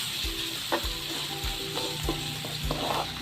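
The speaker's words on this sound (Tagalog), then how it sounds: "Para hindi masunog yung ating margarine, lagay na natin yung ating garlic." Garlic fries in melted margarine in a pan, a loud, close, continuous sizzle broken by regular knocks of a utensil stirring against the pan roughly every half second, with no voices.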